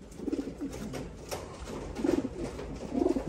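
White grizzle racing pigeons coo in a family loft, soft throaty rolling calls coming in three short bursts against a steady low background of rustling and bird murmur, with no one talking.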